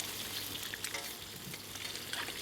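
Eggs and fresh garlic fry in an oiled pan, a dense, even sizzle with light stirring scrapes throughout, heard close and without speech.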